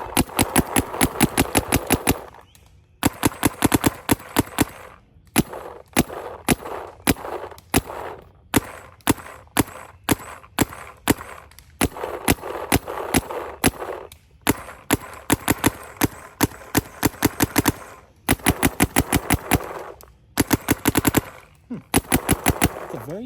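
Planet Eclipse Gtek 180R and CS3 paintball markers firing: rapid, close, loud bursts of sharp shots in long rhythmic strings, broken by brief pauses between volleys.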